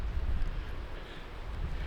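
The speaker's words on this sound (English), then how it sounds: "Pretty windy." Strong gusting wind on a forest trail in a windstorm roars steadily across the whole stretch, loud and continuous as it buffets the microphone, with no voices.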